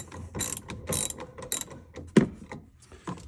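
A ratchet loosening a spring-loaded fastener on a Jeep Wrangler, a quick run of close, crisp clicking strokes in an uneven rhythm with a sharper metallic clack near the end, no voices.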